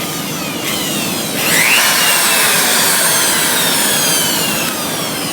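High-speed router cutting in to install a spin weld, a loud steady high-pitched whine that holds constant for several seconds with a brief pitch sweep partway through.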